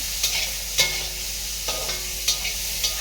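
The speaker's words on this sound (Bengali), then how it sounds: "হলদি অল্প দিয়া দেই, দেখি নাড়া দিয়া" Food in a pan being stirred as turmeric goes in, a constant frying hiss with a few sharp spatula scrapes spaced out across the stretch, close by with no talk.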